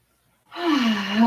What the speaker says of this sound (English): A couple of deep breaths here.